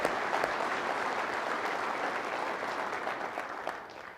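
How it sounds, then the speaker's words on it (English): Steady applause from an audience at a corporate and military transportation fall meeting, honoring awardees; dense, even clapping fills the whole stretch and tapers slightly toward the end. "How about a round of applause for both our corporate and military awardees?"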